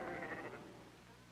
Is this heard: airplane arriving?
no